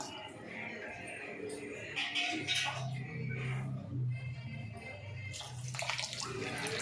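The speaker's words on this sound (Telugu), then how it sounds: "2 గ్లాసుల వాటర్ యాడ్ చేసుకున్నామండి." Water pours and splashes into a pot of soya pulao in a couple of bursts, fairly quiet, with a low bubbling swirl in between.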